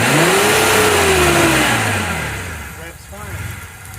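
Gen 1 Mitsubishi Montero engine, running rich with its TPS disconnected, revs hard and close, with pitch rising then falling before it settles back toward a rough idle.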